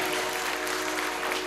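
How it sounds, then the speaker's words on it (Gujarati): Devotees at a Shrimad Bhagwat Katha gathering clap together, a brief, even wash of applause from a large seated crowd, steady and fairly distant with a constant hum beneath. "તમારા માટે એકવાર તાળી પાડી દો મારા વાલા"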